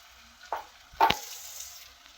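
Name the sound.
fenugreek leaves (methi bhaji) frying in oil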